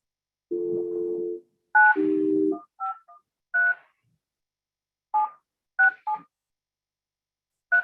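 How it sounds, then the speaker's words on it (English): Telephone keypad tones as a number is dialed during a remote court session: two longer low tones, then about six short, crisp beeps at irregular intervals, clean and close with silence between and no voices. "I'm going to call Ms. Condorcet."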